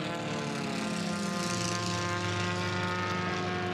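A Formula One class racing airplane roars past at the Reno Air Races, its propeller engine a loud, steady buzzing drone with dense harmonics that swells slightly as it passes close, with no talk over it.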